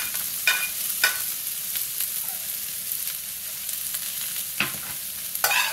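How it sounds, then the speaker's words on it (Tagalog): Onion, garlic and ginger sauté in hot oil in a pan, a steady soft sizzle broken by a few sharp clinks and scrapes of stirring, heard close with no talking. "lagyan na natin ang ating sibuyas, bawang at luya. Gigisa natin."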